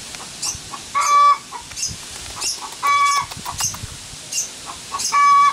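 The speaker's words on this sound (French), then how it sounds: "On entend les poules." Hens clucking nearby in repeated short bursts of calls separated by brief pauses, fairly clear against a quiet outdoor background.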